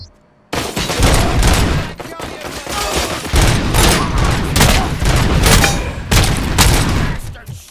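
Dense, rapid gunfire in the shooter RoboCop: Rogue City, a continuous loud fusillade of overlapping shots and booms that rarely lets up, with brief voice lines mixed in.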